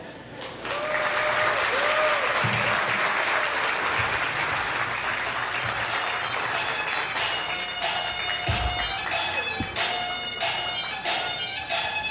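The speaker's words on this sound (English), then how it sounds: "One more very warm round of applause for 2 very heartfelt speeches." Guests at a wedding reception break into warm, sustained applause after speeches, filling the room with loud, dense clapping over a bed of background music and scattered voices.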